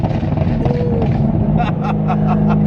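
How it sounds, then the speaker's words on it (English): A Chevrolet Corvette ZR1 fitted with a Borla X-pipe rumbles at close range, then lets out a quick run of sharp exhaust pops over its steady drone. "Ooh, the pops, bro, the pops. Sound like gunshots."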